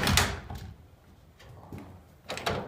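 Door of an abandoned house handled in two bursts, a sharp rattling clatter at the start and another near the end, with quieter creaks and shuffling between, close by with no talk.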